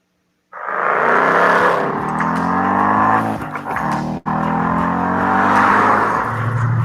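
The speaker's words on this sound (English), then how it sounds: "This is a Ford Mustang. More to the point, this is my Ford Mustang. It's a 5-litre, naturally aspirated V8 beast." Naturally aspirated 5-litre V8 of a Ford Mustang with a manual gearbox starts loud and close, revving with a throaty rising and falling growl, a brief cut, then revving again.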